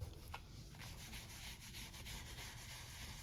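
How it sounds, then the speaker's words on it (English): Fingers rub softly back and forth across dried paper in a junk journal, a faint, close, scratchy rasp repeating in a steady rhythm with no voices. "you can rub on it like this if you're going to add color to it"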